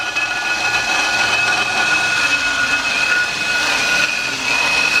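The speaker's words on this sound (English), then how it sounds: "taking a blower too, in case we need to clear some dust" A blower runs continuously to clear dust from a street, loud and close, with a steady rushing roar and a high, thin whine throughout.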